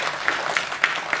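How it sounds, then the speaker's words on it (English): An audience at an artists' panel on Asian Canadian films claps in steady applause, a dense spread of hand claps with a few sharper, louder ones standing out, sustained throughout at moderate distance. "So please give them a round of applause"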